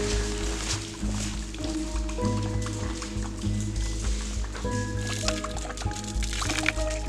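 Water from a mountain spring fountain trickles and drips steadily at close range, with soft liquid splashing and a low outdoor hum running beneath it throughout.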